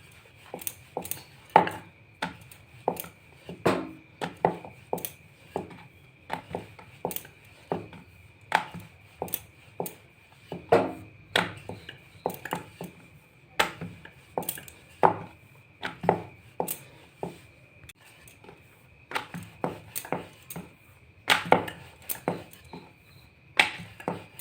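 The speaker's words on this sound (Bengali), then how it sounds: "এটাকে আমি বেলে নেব এখন।" Dough for a flaky Bengali snack is rolled out with a rolling pin on a board, without oil or flour. Steady, repeated wooden knocks and thuds come close and fairly loud, in a regular rhythm, with no talking.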